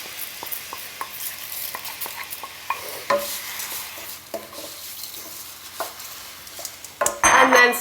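Mung beans and onions frying in a hot pan give a steady low sizzle under repeated scrapes and taps of a spoon as they are stirred, ending in a louder clatter of the pan.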